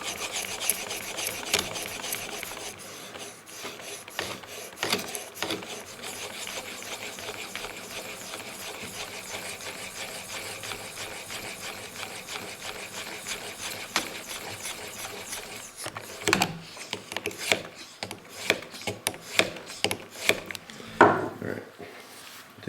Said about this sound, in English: less friction as you continue to sharpen this knife